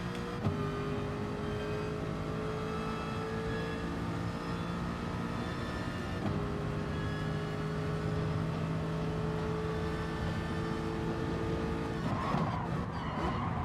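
Race cars in the GT Sport video game drone steadily with sustained engine harmonics that shift in pitch as they brake and accelerate, with a brief change near the end and no talking.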